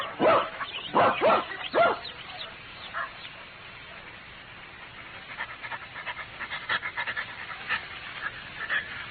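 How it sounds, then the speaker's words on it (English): A dog in a BBC radio drama of Sherlock Holmes' "The Sign of Four" gives a few sharp barks early on, then pants rhythmically and softly, close to the microphone, with no voices over it. "Leave the dog here and come up."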